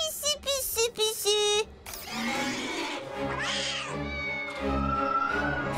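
A cartoon cat gives several short, high meows in quick succession, loud and close, then a longer wailing caterwaul as sound effects and music swell underneath.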